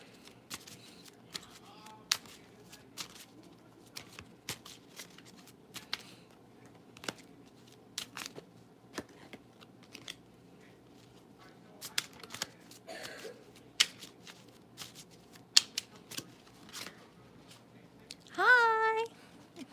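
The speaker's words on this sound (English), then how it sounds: "let me shuffle these cards" Quiet, scattered flicks and soft rustles of tarot cards being shuffled, irregular and close, with a brief voice sound near the end.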